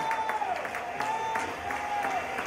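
A church congregation at a Sunday worship service in Sherbrooke applauds, steady clapping under a sustained tone, with a voice speaking over it.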